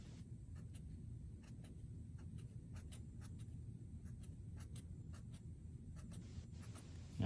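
A marker drawing plus signs on a board: a quiet run of short, crisp squeaky strokes in quick pairs and clusters over a low background hum, with no talking.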